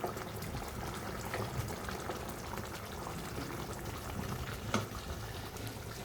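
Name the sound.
fish curry gravy simmering in pan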